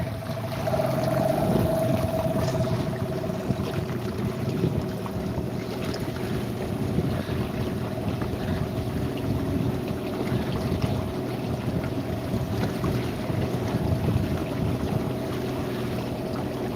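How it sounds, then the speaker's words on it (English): Strong wind buffets the microphone aboard a houseboat out on the ocean, a loud continuous roar and rumble with a steady low hum running underneath for the whole stretch, no voices. "there's a lot more wind out here than you realise"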